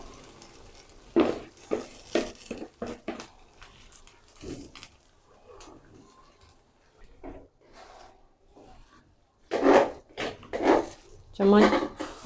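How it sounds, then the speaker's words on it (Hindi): A spoon scrapes and stirs semolina halwa soaked in milk in a pan, giving irregular clinks and scraping bursts at close range, loudest toward the end, with quieter gaps between. "चम्मच मुसलसल चलाते रहना है।"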